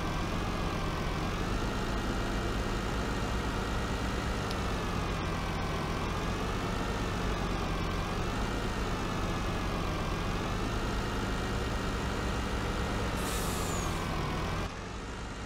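Truck engine in Farming Simulator 19 droning loud and steady with a slowly wavering pitch, ending in a sharp hiss of the air brake near the end.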